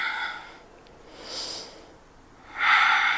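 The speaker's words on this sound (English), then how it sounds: "Breathing here." Audible breaths held in yoga chair pose, soft airy bursts at the start, middle and a louder one near the end, close to the mic with no talking.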